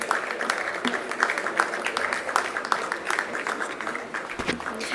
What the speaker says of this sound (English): Can we have a huge round of applause for everybody?